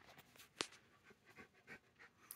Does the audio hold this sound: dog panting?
yes